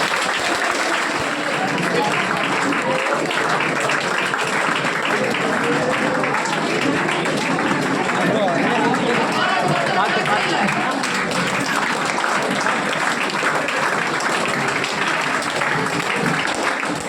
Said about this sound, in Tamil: ஒரு பாராட்டு சொல்லலாமா?